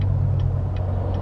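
A 2017 Corvette Z06 engine idles with a deep, steady rumble close by, while faint ticks repeat about every 0.4 seconds during paddle downshifts.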